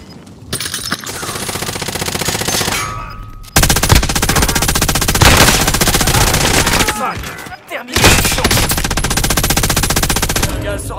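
Rapid automatic gunfire from Call of Duty Warzone, loud and dense, comes in sustained bursts broken by two brief pauses, with machine-gun rattles overlapping throughout.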